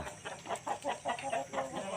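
Chickens clucking on a small Thai self-sufficiency farm that also keeps fish and ducks, a steady run of short repeated clucks at moderate distance with no talk over them.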